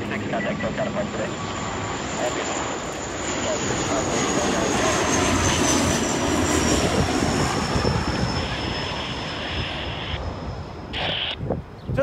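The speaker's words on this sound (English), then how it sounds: "Those little propeller ones don't really go too far." A small propeller airplane at an airport drones loudly and steadily, its broad engine roar filling the scene with a faint high whine, while voices sound faintly in the background.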